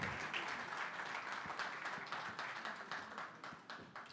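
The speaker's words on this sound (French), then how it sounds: "Allez, on les applaudit." Audience applause at an awards ceremony for a forum event, a dense, steady wash of many hands clapping that fills the whole stretch at moderate volume, with no talking over it.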